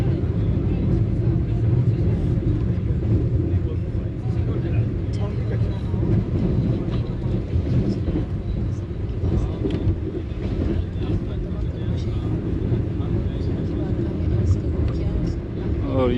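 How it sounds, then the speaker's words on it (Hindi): Green Line express train running at about 112 km/h past Habibabad station between Bahawalpur and Lahore, heard from inside an AC Standard coach as a loud, continuous roar and rattle of wheels on track throughout. "दोस्तों ट्रेन हमारी इस वक्त हबीबाबाद रेलवे स्टेशन से पास थ्रू हुई है आलमोस्ट 112"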